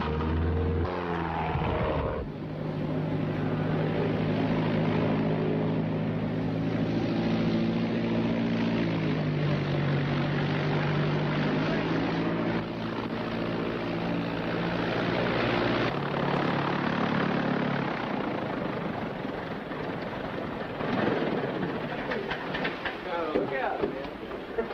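A small propeller plane comes in to land, its engine droning steadily and loudly close by with slight shifts in pitch, while people talk over it in the cabin.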